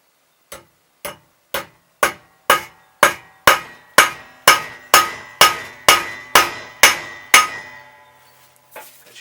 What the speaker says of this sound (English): now use the hammer